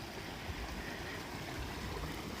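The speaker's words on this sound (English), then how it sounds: "here's Spruce Creek, first little crossing" Spruce Creek flowing beneath a bridge at a small backpacking trail crossing in the national forest near Mohawk Lakes, a steady close rush of water that fills the whole moment with no talking.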